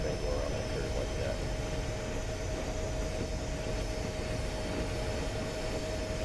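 An EMD SW1200 diesel switcher in Train Simulator Classic creeps through a shallow curve, its wheels holding a steady high-pitched screech over a constant rumble. Someone talks over it.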